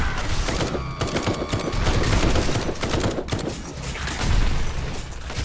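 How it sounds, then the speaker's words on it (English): A ballista turret fires rapidly in the survival game Night of the Dead, a dense, continuous barrage of loud overlapping shots and thuds with rattling debris throughout, no voices. "Our ballista turret has gone absolutely mental."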